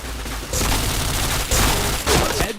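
Rapid bursts of gunfire from a shooting video game, loud and dense, with sustained volleys broken by short gaps and no talk.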